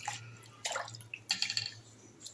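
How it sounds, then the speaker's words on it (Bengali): Pieces of home-raised desi rooster meat are rinsed in water by hand, giving faint, scattered splashes and drips in a few short bursts against a quiet background. "এখন আমি আবারও ভালো করে ধুয়ে তারপর আমি পানি ঝরাতে রেখে দেব"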